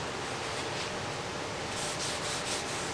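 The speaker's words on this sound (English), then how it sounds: "Get the methyl hydrate and wipe the pieces down." Fibreglass pieces being wiped down with a rag and methyl hydrate before epoxy work, giving a steady, close, continuous rubbing hiss that brightens slightly toward the end, with no talking.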